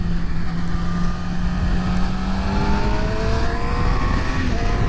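A 2019 Yamaha YZF-R6 600 supersport motorcycle rides on city streets, its engine droning steadily with rising pitch as it accelerates, mixed with heavy wind rush.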